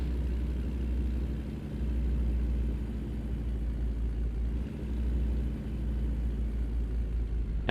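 A heavy truck engine in American Truck Simulator, climbing slowly up a long grade on the Dalton Highway, drones steadily with a deep, close rumble, dipping briefly and then rising again as the revs fall and recover, with no one speaking.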